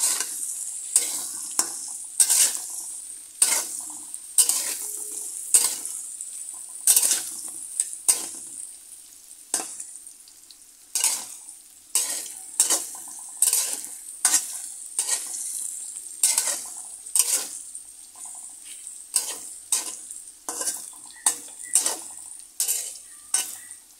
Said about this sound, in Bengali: এবার লবণ হলুদের গুঁড়ো দিয়ে করলা লাল করে ভেজে নেব।